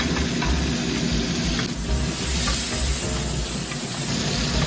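Squid stir-fried in hot oil with garlic and dried chili sizzles and hisses steadily in a wok, a continuous close frying crackle with brief stirring shuffles and no one talking.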